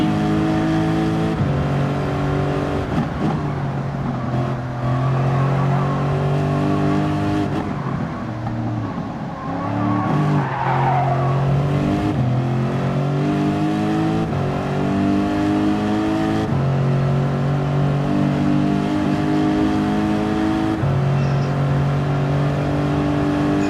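A Mercedes race car with a 6.2-liter V8 engine runs in Gran Turismo 7. The loud, continuous engine drone rises and falls through gear changes and revs for over twenty seconds, close and steady, with no talking.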